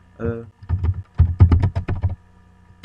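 Typing code on a computer keyboard: irregular clusters of soft clicks and thunks, close and alone after a brief voice at the start.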